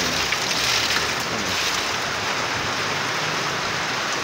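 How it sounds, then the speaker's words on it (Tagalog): Heavy rain and gusting wind during a storm on a bicycle ride near Baler, Aurora, a dense steady roar of downpour and wind noise filling the whole stretch, loud and close with no voices. "Ngayon ito na talaga yung lakas ng ulan na."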